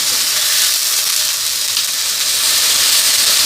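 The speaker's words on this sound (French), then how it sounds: "y placer nos steaks qu'on va faire vraiment griller à feu très vite" Beef steaks sear on very high heat, giving a loud, constant, close hiss of sizzling fat that stays even and unbroken throughout, with no voices.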